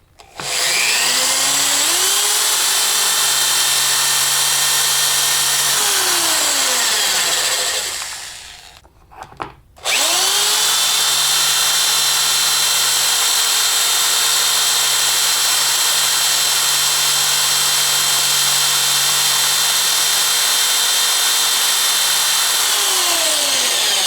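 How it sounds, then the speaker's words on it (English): A power drill whines loudly and steadily as it drills out an oil restrictor for a turbo oil feed line, spinning down and stopping briefly before starting up again for a long continuous run. "the first thing we're going to do is drill out this restrictor"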